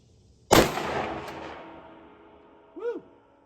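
A single loud blast from an Escort BullTac 12 gauge shotgun firing buckshot at an outdoor target, with a sharp crack and a long rolling echo that fades over about two seconds, then a brief faint whistle-like tone.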